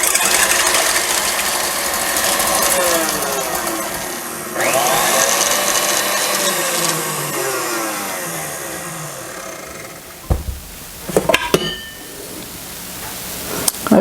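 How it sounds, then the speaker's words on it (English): An electric mixer beats egg whites until stiff in a mixing bowl, whirring steadily and shifting in pitch, then stops. A few clanks and taps follow near the end. "now I have to beat my egg whites until they're stiff"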